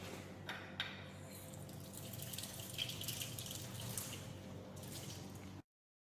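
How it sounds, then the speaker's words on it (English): Tap water rinses etchant off a grey cast iron sample in a lab, a steady, close splashing stream that runs for about five and a half seconds and then cuts to silence. "Apply a drop and then wash."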